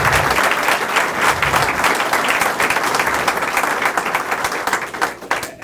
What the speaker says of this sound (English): I'd like a round of applause for them.